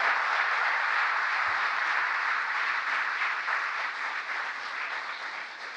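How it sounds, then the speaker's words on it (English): A large crowd applauds at a presidential event marking the anniversary of the Inflation Reduction Act, a continuous, even wash of clapping heard from a distance, fairly faint and tapering slightly toward the end, with no talk over it. "I'd like you to give an applause to every one of my colleagues"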